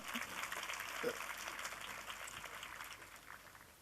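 An audience at a literary festival session in Kolkata claps in a soft, steady ripple of many hands, somewhat distant and fading gently over a few seconds.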